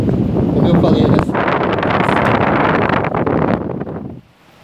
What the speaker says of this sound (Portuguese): Até aqui o nosso ventiladorzinho aqui. Já funcionando.